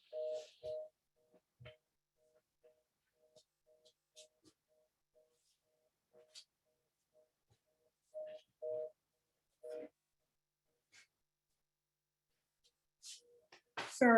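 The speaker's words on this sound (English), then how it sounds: "I put my phone on Do Not Disturb, but obviously it didn't work." A phone rings through a live online meeting, a quiet repeating electronic ring tone in short pulses, with scattered clicks and brief faint voices.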